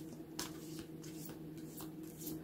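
Tarot cards shuffle and get drawn from a deck in a series of quick papery riffles and flicks, close and fairly soft over a steady low hum.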